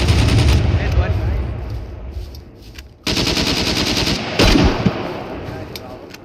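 Rapid automatic gunfire from a PvP raid in the survival game Scum, loud and sustained bursts that briefly drop out near the midpoint before resuming, with a voice speaking faintly underneath.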